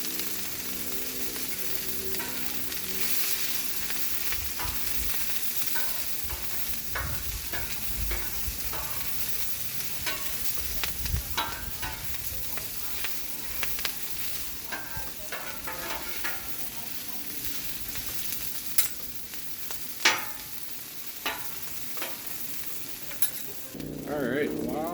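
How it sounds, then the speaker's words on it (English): Pork tenderloin sizzling in oil on a Blackstone flat-top griddle, a steady dense frying hiss with scattered sharp pops and spatter crackles throughout, close and continuous with no talk. "Oh, listen to that sizzling pop."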